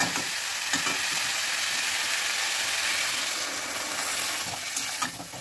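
Water poured into a pan of sizzling spiced Bengali fish-head curry base, producing a loud, steady, close hiss of frying and bubbling that holds evenly throughout with light stirring clicks.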